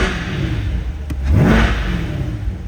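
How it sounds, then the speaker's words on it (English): A 2023 Corvette Coupe 2LT Z51 engine rumbles at idle, then revs up sharply once before settling back, loud and close. "let's give it a couple revs for you guys."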